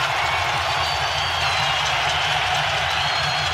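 A packed NBA Finals arena crowd roars loudly and continuously during a Raptors versus Warriors game, a dense wash of cheering and noise with no break.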